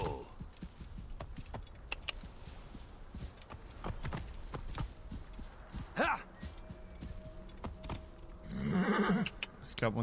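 A horse in Assassin's Creed Origins whinnies loudly in bursts while its hooves clop and shuffle on ground nearby, with a reluctant, halting gait and a final sharp neigh.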